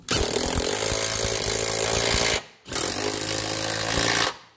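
A power gun spins up the drive shaft bolts on a 2009 Subaru Forester during propeller shaft replacement, two loud sustained buzzing bursts of about two seconds each with a brief gap between them, close up and with no talking.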